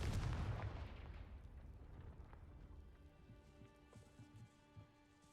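Confringo blasting spell in the Hogwarts Legacy video game: a heavy booming blast that rolls off into a long decaying rumble, followed by faint crackling debris and light tones.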